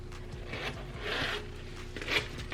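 Zipper on an MCM designer wallet worth about $450 being carefully opened, a few soft rasping pulls with a brief brighter zip near the end, close and quiet with no talk.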